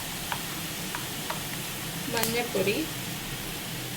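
Dry raisins sauté in a pan for raisin pickle, giving a steady, hissing sizzle at close range with a few light stirring scrapes and clinks over it.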